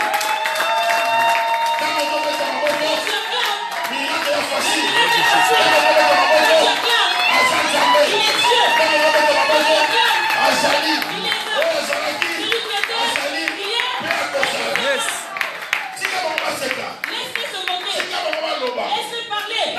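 A church congregation at a Sunday worship service claps and cheers for Jesus, a dense crowd of applause mixed with shouts and voices, loud and sustained for the whole stretch.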